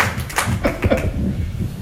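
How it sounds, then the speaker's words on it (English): Audience applause at a volunteer appreciation day gathering: a steady wash of many hands clapping nearby, fairly even and dense for the whole stretch, with no talk over it. "Give yourselves a round of applause because you got that right."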